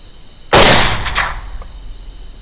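A rifle shot fired at a hog during a hunt, one sharp loud crack that rings and decays over about a second, with a fainter second report shortly after in an open outdoor setting.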